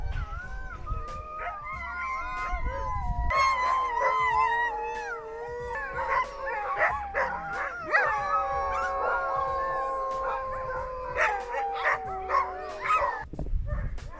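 A group of sled dogs in a dog yard howls together in long rising and falling wails, with overlapping voices and a few yips, close and sustained, with no talk.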